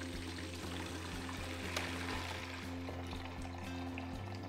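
A small electric pump runs steadily with a low mechanical hum while pushing water through a hose into a bucket, the continuous pouring and splashing of the stream heard alone and fairly close throughout.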